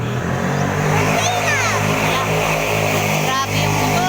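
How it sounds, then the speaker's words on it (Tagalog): A loud motorcycle engine revs and roars up close, pitch climbing and falling, with a constant heavy rumble throughout. "Lakas ng tunog ng motor niya"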